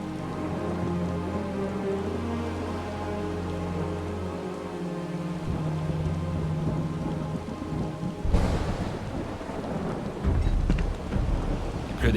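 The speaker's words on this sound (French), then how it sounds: "Il pleut des cordes." Heavy rain pours steadily in Final Fantasy 7 Rebirth, with deep thunder rumbling and a loud crack of thunder breaking in partway through, no voices.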